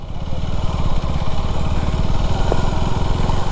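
Motorcycle engine labouring steadily up an off-road hill near Bangalore, a loud continuous mid-pitched drone with throttle pulses, close to the rider.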